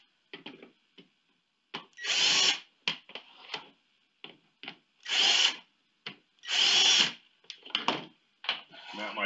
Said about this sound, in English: You can pilot drill.